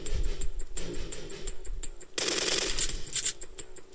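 Video game gunfire from Syphon Filter 3, with a rhythmic series of sharp shots and crackling bursts over a busy game soundscape, louder in the second half, no talking.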